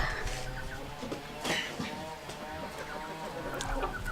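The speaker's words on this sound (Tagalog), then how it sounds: "Madami kaming pato. Mga pato." Ducks call and chatter in a small flock, a busy mix of quacks and clucky notes at moderate distance, with soft background noise.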